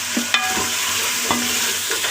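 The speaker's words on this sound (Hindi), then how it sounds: "अभी हम थोड़ा सा हिला लेते हैं।" Spoon stirring mutton and egg korma in a pot over a loud, continuous sizzle, with a few scraping knocks against the pot.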